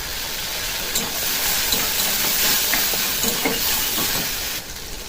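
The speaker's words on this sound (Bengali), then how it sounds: "আমি একটু পাঁচফোড়ন দিয়ে দেবো, পেঁয়াজ দিয়ে দেবো, কিছুটা চিংড়ি মাছ আর পেঁয়াজটাকে লাল লাল করে ভেজে নেবো।" Shrimp and onion sizzling in hot oil with panch phoron, a loud, steady broadband hiss of frying with faint crackles, close and continuous throughout.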